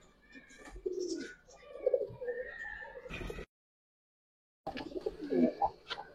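Domestic pigeons cooing nearby in soft, repeated throaty phrases, with a brief silent gap partway through before the cooing resumes, and some faint background noise.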